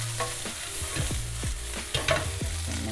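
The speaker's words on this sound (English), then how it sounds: "I got my onions already grilling" Onions grill and sizzle in a hot pan for short rib and shrimp tacos, a steady close frying hiss with several sharp stirring scrapes and clinks spaced through it, no talking.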